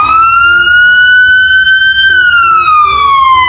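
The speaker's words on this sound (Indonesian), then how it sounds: "Wow, ada mobil damkar." A loud, close electronic siren wails in a single slowly rising and falling tone, like a toy fire truck, continuous throughout.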